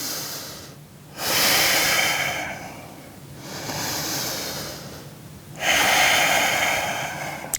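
Deep, slow breaths during a core-focused yoga session, each long hissing inhale and exhale rising and falling in a steady rhythm, close and prominent with no talk over them.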